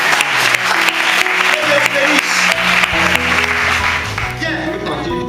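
Applause from a gathered crowd at a religious-style talk, a dense, loud clapping texture with sustained tonal sounds underneath that fade out toward the end.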